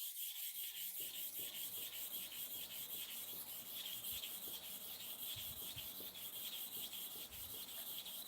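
Barber clipper blades are sharpened by hand, giving a steady back-and-forth rasping scrape at an even rhythm, close and continuous with no talk.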